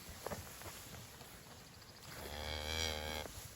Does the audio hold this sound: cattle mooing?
yes